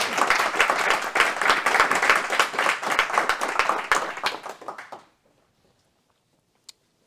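Audience applause after a talk on hex map generation with wave function collapse at a Copenhagen event: dense, steady clapping from a room of listeners for about five seconds, then breaking off abruptly into near silence with one faint later clap.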